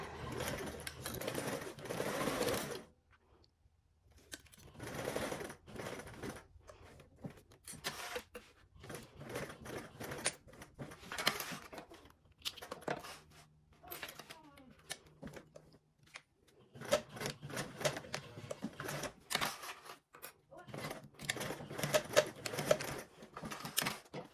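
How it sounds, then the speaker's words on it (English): A sewing machine stitches a seam on a garment in bursts of rapid needle clatter, starting and stopping several times with short quiet pauses between runs, close and clear. "So we are going to go ahead and start sewing the one side, and you're going to sew from here down to here"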